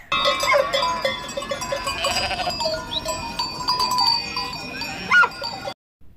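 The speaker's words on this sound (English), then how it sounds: "G for goat." Goats bleat several times over a jingle of small bells, close by and fairly loud, ending in sudden silence.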